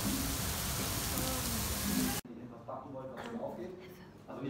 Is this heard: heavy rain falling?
yes